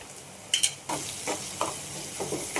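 Onion, garlic masala and red chili powder stir-fried over low flame for a banana flower vegetable dish, a steady close sizzle broken by several scraping stirs and a short metallic clatter early on.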